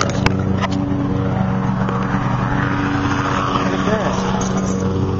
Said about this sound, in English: And that is this truck. Runs like the Dickens.